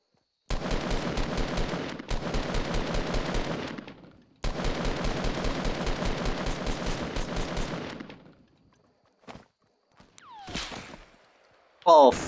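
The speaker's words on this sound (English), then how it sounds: "Oh fuck, I'm getting sniped." Fortnite gunfire comes in long, loud bursts of rapid, evenly spaced shots separated by short pauses, followed by a few isolated clicks and effects.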